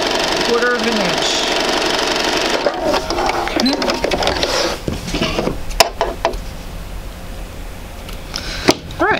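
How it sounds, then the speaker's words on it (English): A sewing machine stitches quilt wedges together, a steady whirring run that gives way to scattered clicks and knocks as the fabric is handled, close by, while a person talks over it. "take a couple stitches, join the wedges together, and come straight down a quarter of an inch"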